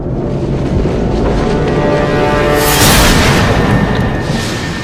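A deep, loud rumbling boom swells and rolls, like distant artillery fire from Austro-Hungarian Skoda cannons shelling Belgrade in July 1914, with a broad roar building midway.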